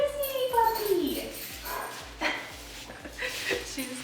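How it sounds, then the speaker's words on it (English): A puppy barks and whimpers in a series of short yips and whines, close and fairly loud, with a person talking over it. "Don't bark. What you doing, puppy?"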